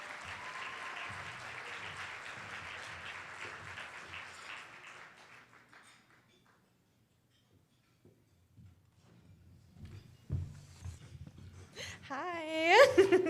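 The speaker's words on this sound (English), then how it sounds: "give it a big round of applause for our first speaker, Cher." Audience applauds a first speaker at a live-streamed event, a steady crowd clapping that fades out over several seconds, followed by quiet and then a voice with some stray noises.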